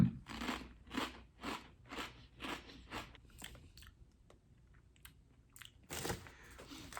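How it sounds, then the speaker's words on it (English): Kettle-cooked spicy snack chips crunched between the teeth, a series of loud, close bites and chews in a regular rhythm, then a pause and one more crunch. "I gotta do all this crunching, so I'm not even thinking about the spice"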